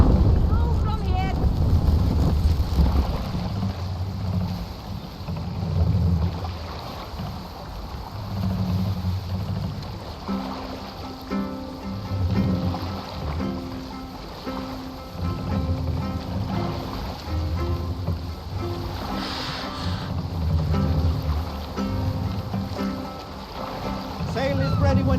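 A Viking longship sails in Assassin's Creed Valhalla, with water washing and rushing against the hull amid wind and low ambient game music, while voices speak intermittently.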